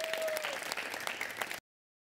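Studio audience applause on a Marathi comedy show, a dense burst of clapping that cuts off abruptly after about a second and a half, with a brief high tone near the start.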